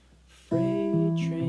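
An acoustic guitar Travis-picks the song Freight Train, entering after a brief quiet lead-in with a few sustained, close notes and a bass line moving underneath, without talk.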